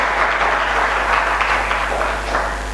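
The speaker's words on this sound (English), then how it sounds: "And now you can clap for Professor Swaminathan and for the achievement of India" Lecture audience applauding together, a steady wash of clapping that carries for a few seconds at even strength in an indoor hall.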